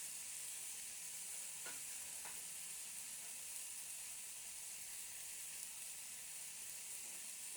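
Catla fish frying in oil with crushed garlic stirred in, a steady hissing sizzle throughout with a couple of brief scraping stirs near the start; no voices.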